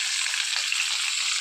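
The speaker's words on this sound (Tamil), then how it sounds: "இப்போ நம்ம அந்த பாவக்காவை எடுத்து போட்டுக்கலாம்." Bitter gourd deep frying in sesame oil, a dense, even hiss of bubbling oil, close and continuous with no voices.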